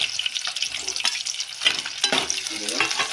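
Green chilies frying in oil for a spiny gourd curry make a steady close sizzle with scraping stirs throughout, and a brief burst of crackle near the end.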